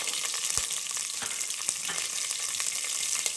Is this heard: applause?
no